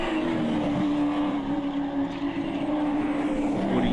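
A Trans Am race car at Shannons 2 Days of Thunder is driven hard around the track, its engine a loud, steady roar held at high revs for the full stretch, with no pause or letup.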